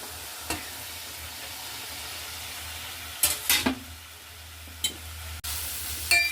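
Washed broad beans sizzle in a pan for a curry, a constant low frying hiss with a low hum underneath, broken by a few sharp spatula scrapes and clicks as they are stirred.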